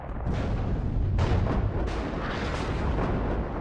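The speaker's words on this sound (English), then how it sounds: "There comes the artillery. Hitting nicely." Artillery shells land in WARNO during a campaign battle, a string of deep rumbling impacts and booms rolling out one after another at a steady, distant-sounding pace with no talking over them.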